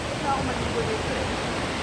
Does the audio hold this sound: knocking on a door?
no